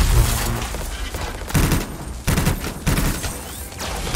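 Large gun firing in the video game Anthem, heavy booming blasts in a dense, continuous barrage with a few abrupt breaks, loud and close amid battle noise.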